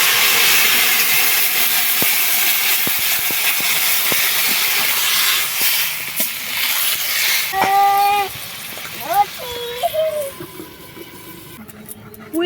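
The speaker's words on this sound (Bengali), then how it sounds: "এবারে জল দিয়ে দিচ্ছি" Water poured into a hot pan while cooking pui seed stir-fry with fresh pond fish gives a loud, steady steamy hiss that slowly fades, and someone talks over its tail end.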